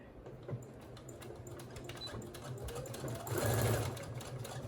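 A sewing machine stitches a fabric dog bone toy, its rapid needle chatter running steadily close by, quickening and growing louder toward the end.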